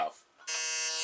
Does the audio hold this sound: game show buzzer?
yes